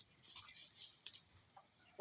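Chickens in a farm coop give faint, scattered clucks against a soft bed of insect chirping and a steady high hiss.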